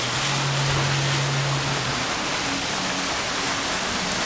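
Resort water fountains rush and splash in a dense, steady wash of falling water, loud and continuous with no voices.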